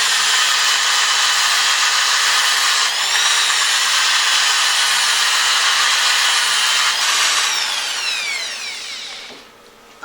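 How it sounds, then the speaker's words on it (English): A power sander runs continuously on a solid wood holiday tree decoration, a loud, steady high whir with slight pitch shifts as it moves back and forth, then winding down near the end. "I like the power sander over just using sandpaper by hand."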